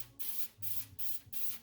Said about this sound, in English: I'm gonna spray it first with some of my baking spray.